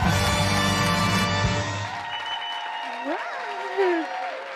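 A studio audience applauds as guests come onto the set of a French live talk show, steady clapping that fades after a couple of seconds while a host keeps talking over it.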